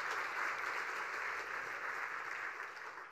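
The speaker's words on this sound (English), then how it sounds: "I just want to give them a round of applause" An audience at the Write the Docs Portland 2017 tech writing conference claps steadily, a dense sustained applause that fades slightly at the end.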